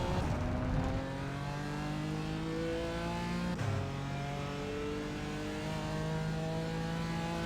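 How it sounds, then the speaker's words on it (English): A BMW M4 race car in iRacing revs hard and loud, its engine pitch climbing through the gears in long rising sweeps, with a brief shift break midway and no talk. "BMW M4 is what I'm driving."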